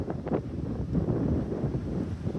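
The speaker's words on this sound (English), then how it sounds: "It's breezy, it's warm." Warm evening breeze outdoors at Big Bend, steady buffeting wind rumbling against the microphone, close and continuous, with no talk.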